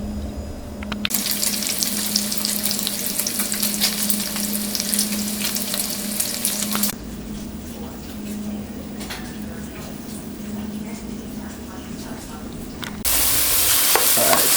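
Cooked bacon sautéing with oil, diced onions and garlic gives a loud, steady sizzle that runs throughout, with a low background hum and a brief change in texture partway through.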